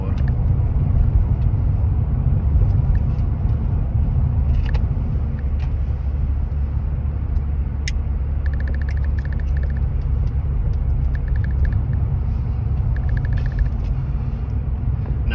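Car driving along a road on a long trip to a home village, a steady low engine and tyre rumble that fills the whole stretch, with faint brief ticks and chimes over the drone.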